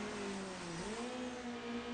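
A race car engine in a racing video game with traffic, droning steadily and loudly with a pitch that dips, then climbs as it shifts and accelerates, without speech.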